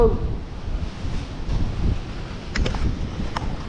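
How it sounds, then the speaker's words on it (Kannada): Strong wind blows in rough, rumbling gusts outdoors in Surathkal ahead of heavy rain, a steady roar that swells and eases over a few seconds, with faint rustling on top and no voices. "ಒಳ್ಳೆ ಗಾಳಿ ಬೀಸ್ತಂತ ಈಗ ಜೋರಾಗಿ ಮಳೆ ಬರ್ತದಂತ"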